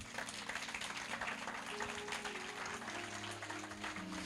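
A church congregation applauds God in a dense, sustained wash of clapping with steady tones held underneath, continuing evenly throughout.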